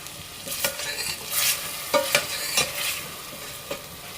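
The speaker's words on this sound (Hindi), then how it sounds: "मैंने ये 2 टेबल स्पून मज़ीद ऑयल डाल दिया है। अब इसको थोड़ा सा भूनेंगे।" Chicken frying in extra oil in a pan, a close steady sizzle punctuated by several brisk stirring scrapes and light clinks of a utensil.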